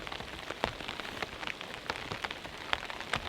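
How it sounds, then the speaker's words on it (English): Rain mixed with freezing rain falls on a backpacking tent, making a constant soft patter broken by sharper individual drop hits, close by and alone. "now it's a mixture of rain and freezing rain"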